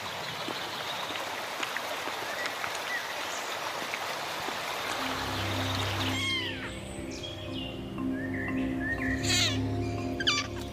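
Wildcat kittens about two weeks old mew in a forest near a stream, high thin calls repeating over steady flowing water, with birdsong in the later part.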